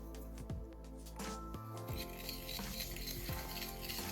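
A utensil whisks eggs, salt and sugar in a bowl, clinking repeatedly against the sides in a steady stirring rhythm, close and fairly loud, with no talking.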